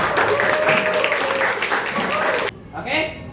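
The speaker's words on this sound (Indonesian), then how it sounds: "Oke, tepuk tangan dulu." A classroom of students claps during a maths lesson, a brisk burst of group applause with a voice talking over it, cutting off sharply near the end as a few quieter sounds follow.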